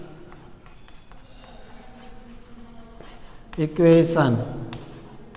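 During a physics lecture on units and measurement, a teacher writes on a board in quick scratchy strokes while speaking.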